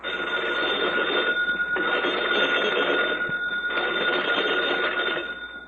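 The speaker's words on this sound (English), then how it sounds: "the phone bell rang." A telephone bell at a fire station ringing loud and continuous in a long metallic trill, with a brief dip partway through, in an old radio drama.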